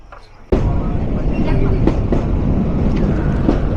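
Burimari-bound local commuter train rolling into Kakina station in Lalmonirhat district, heard from aboard: a sudden loud onset of steady rumbling and rattling wheels on track, with clanks and squeals through the carriage.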